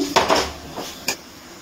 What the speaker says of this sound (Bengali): আলু দিয়ে মশলার সাথে আরেকটু ভালো করে কষিয়ে নিচ্ছি